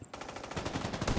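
Minigun in a video game firing a continuous rapid burst, dense rattling gunfire that starts abruptly after a brief quiet moment and holds steady and loud throughout.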